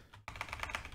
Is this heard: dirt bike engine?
no